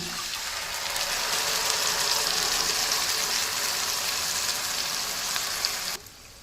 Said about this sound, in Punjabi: ਹੁਣ ਇਹਦੇ ਵਿੱਚ ਪਾ ਦਿੰਦੇ ਅਸੀਂ ਦਹੀਂ